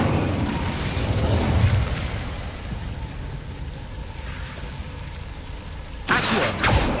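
A fire spell cast in the Hogwarts Legacy video game: a steady, roaring, rumbling burst of flame fills the whole stretch, then flares again with a sharper, brighter surge near the end.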